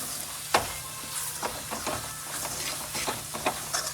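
A spoon stirs turmeric, garam masala and red chilli through carrot pickle in a pan, giving soft scraping strokes and light sizzling, several distinct scrapes spaced over a few seconds.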